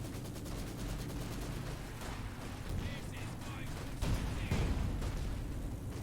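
An IS-2 heavy tank fires in a competitive video game match: a few heavy booming shots and scattered battle noise sound at moderate volume amid busy background game audio.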